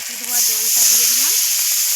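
Water poured into a hot frying pan of spiced sauce while cooking a large fish: a loud, steady sizzle and hiss rises after a brief moment and holds close by, with a voice murmuring faintly underneath.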